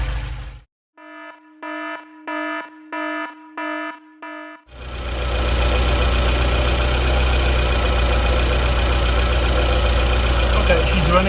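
A run of six short, evenly spaced electronic beeps, then a Porsche 924 engine starts and idles steadily and loudly after a timing adjustment, its rumble continuing without a break to the end.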